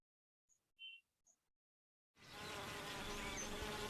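Honey bees buzz in a steady, dense drone that starts abruptly partway through and continues loudly to the end, after a few faint, brief chirps in near silence.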